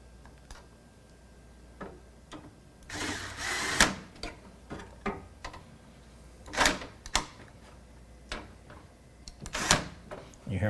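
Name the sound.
electric screwdriver clutch shutting off at torque setting while fastening motherboard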